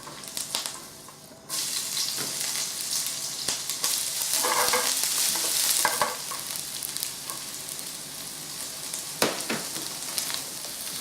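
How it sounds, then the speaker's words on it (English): Shallots and prawns sizzle steadily in a hot pan, a close, continuous crackling fry that starts after a brief quiet moment and carries on with occasional louder spits and stirring. "What we want to do is just fry them off a little bit till they're just slightly golden."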